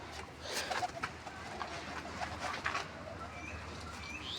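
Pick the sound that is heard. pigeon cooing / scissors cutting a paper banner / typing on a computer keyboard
pigeon cooing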